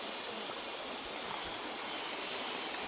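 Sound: fast-flowing river water during bamboo rafting

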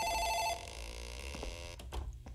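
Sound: office telephone ringing in a video game, Dark Fracture

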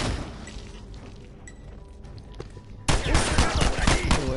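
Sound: gunshots in a video game

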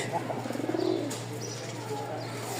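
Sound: pigeons cooing

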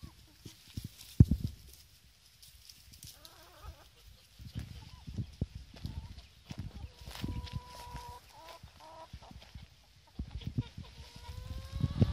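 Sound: chickens clucking

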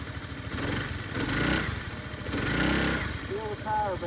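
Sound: 2004 Honda Reflex 250 scooter engine riding away

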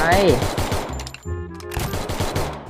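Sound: gunfire in the Free Fire video game

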